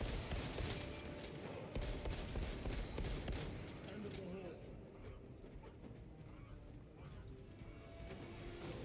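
Sniper rifle fire in Warhammer 40K Space Marine 2 cracks in a rapid cluster of sharp, loud shots over the first half, then gives way to quieter game ambience.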